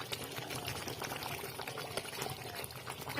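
Chilli chicken gravy simmers in a pan, giving a soft, steady bubbling and sizzling hiss with small pops throughout, close up and quiet.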